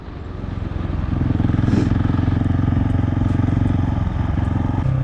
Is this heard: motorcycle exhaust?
yes